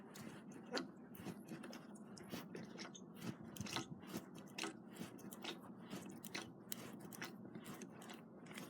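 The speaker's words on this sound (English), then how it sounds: "we're going to prime it by pulling on this priming lever here" Priming lever on a 1-1/2 HP McCormick-Deering M engine worked repeatedly during a cold start, giving a steady series of small mechanical clicks and ratchet-like snaps, faint and close, with no talking.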